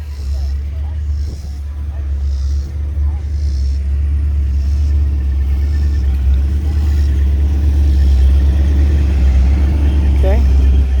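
A classic 1956 Chevrolet Tri-Five car engine runs with a deep, steady rumble that holds throughout at close range, with faint background sounds at a car show event.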